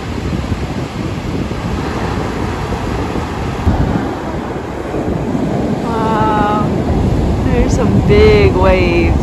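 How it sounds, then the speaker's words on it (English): Big ocean waves break on a rocky California beach in a continuous loud roar and wash, with heavy wind buffeting the microphone; voices speak briefly near the end. "Big waves."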